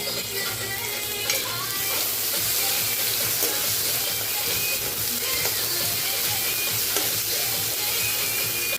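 Onion and chilli fry in hot oil in a kadai with a dense, steady, loud sizzle that runs unbroken throughout, with no talking.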